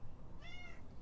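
A cat gives a single short, fairly quiet meow, rising and falling, against a soft background murmur.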